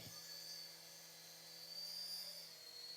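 A remote-controlled toy helicopter flies close by, its small rotor motor giving a steady, high-pitched electric whine with a low hum beneath, continuous for the whole stretch with no talking.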